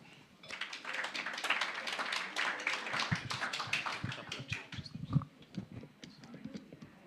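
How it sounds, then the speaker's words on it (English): A modest audience at a talk gives a round of applause, a scattered patter of individual claps, fairly faint and distant, swelling briefly and then tapering off. "Another round of applause, please."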